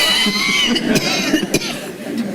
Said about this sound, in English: Enough to make anyone cough.